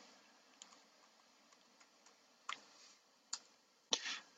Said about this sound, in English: we hit the tab key